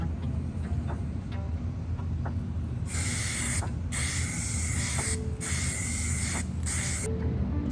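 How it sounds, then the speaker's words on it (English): Bursts of nitro satin lacquer hissing from a spray gun onto an electric guitar body and neck, several long sprays with short pauses between them, close and loud over a low background hum. "spray the body and the neck with the nitro satin"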